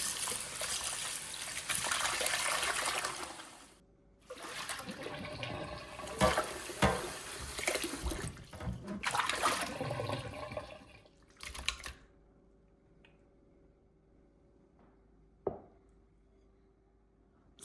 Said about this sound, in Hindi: अब कलेजी को धो लेते हैं।